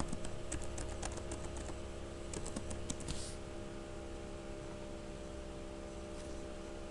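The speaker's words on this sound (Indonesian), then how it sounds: "Ketik sintaks login spasi nama user, lalu enter" Rapid keystrokes on a computer keyboard as a login command and username are entered, clicks densest in the first three seconds and then thinning out over a steady background hum.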